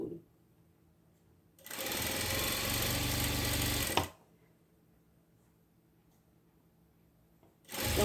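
A sewing machine stitches stretchy knit fabric for an animal-shaped comfort toy in one loud, steady burst of about two and a half seconds, falls quiet, then starts again at the end; the whirring is close and even.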